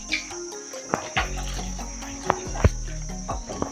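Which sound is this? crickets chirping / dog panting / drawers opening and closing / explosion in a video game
crickets chirping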